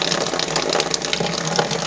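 Water runs steadily from a tap fed by an EcoSmart 5.5 kW tankless electric inline point-of-use water heater, a continuous close hiss and splash at moderate flow, with no talk.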